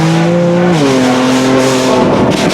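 A BMW M4 tuned to about 565 bhp with a very loud aftermarket exhaust revs close by, its engine note climbing steadily in pitch as it accelerates hard.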